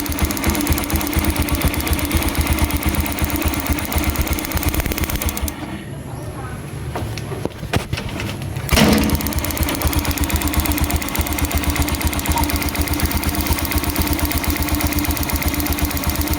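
A Yamaha STX motorcycle engine idles with a rapid, even close-up putter. The sound dips briefly partway through, then carries on steady and loud. A voice is heard faintly in the background.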